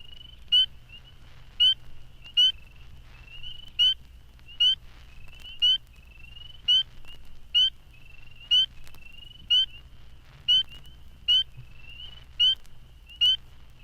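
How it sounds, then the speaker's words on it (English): Spring peeper frogs (Hyla crucifer) give high, rising single peeps at a steady pace, roughly one per second, clear and fairly close over a low background hum. "the calls of the tiny spring peeper, Hyla crucifer, are heard throughout the East"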